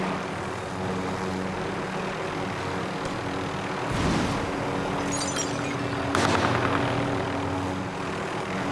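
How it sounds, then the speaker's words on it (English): A helicopter in the Call of Duty Modern Warfare video game makes a constant rotor and engine drone that swells and thumps at moments, with faint gunfire-like bursts in the distance. "I just jumped in the chopper"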